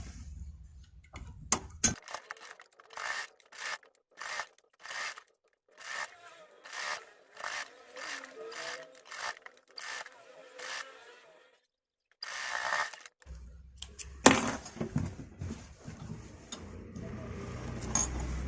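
A sewing machine stitches piping onto a baby A-line frock in repeated short bursts of rapid mechanical clatter, close and moderately loud, with brief pauses between runs and handling noise at the start and end.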